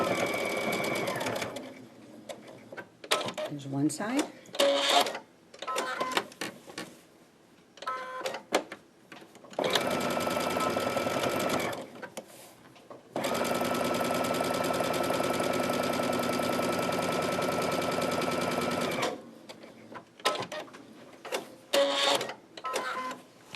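A sewing machine stitches a fabric book cover in bursts of fast, buzzy mechanical whirring, some short and stuttering, one long steady run, close and loud, with a brief spoken comment.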